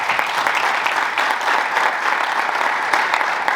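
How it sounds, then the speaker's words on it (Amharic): Audience applause at a religious celebration in Atlanta, Georgia: steady, dense clapping from many hands that holds at an even level throughout, with no voices over it. "ደስ ከተሰኛችሁ አጨብጭቡ።"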